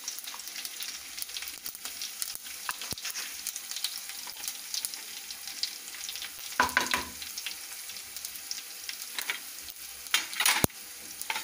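Cumin and asafoetida crackle and sizzle in hot oil as a tempering for Maharashtrian zunka, with a steady close frying hiss, occasional sharp spatters and the scrape of stirring, no voices.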